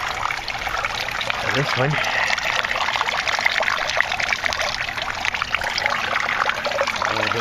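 Water trickles and splashes steadily in a home aquaponics system as it circulates and drains, a constant close-up liquid rush with a brief spoken remark partway through.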